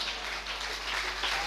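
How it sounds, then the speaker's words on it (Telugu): A church congregation claps loudly and steadily after a sermon call for applause, a dense, continuous wash of hands filling the hall at a fairly even level. "గట్టి చప్పట్లు కొట్టండి గట్టిగా"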